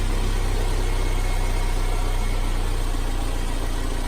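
Turbocharged Toyota MR2 engine idling smoothly with no misfire, a steady even drone with a low rumble that holds constant and close for the whole stretch, with no voices.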